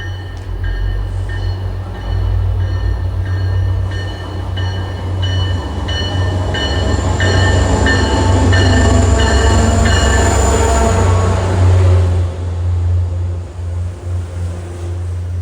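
A loud Amtrak passenger train bound for Providence rumbles past behind a locomotive with heavy low-end engine drone and steady wheel noise, a high whine rising then fading as it goes by.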